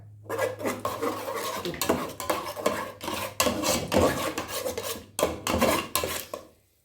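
Egg being turned and stirred in a pan over a fire for a cauliflower breakfast dish, a steady run of close scraping and clinking utensil strokes against the pan, sounding alone.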